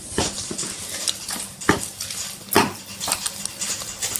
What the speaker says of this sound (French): Alors là on mélange.